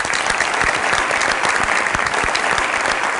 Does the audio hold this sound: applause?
yes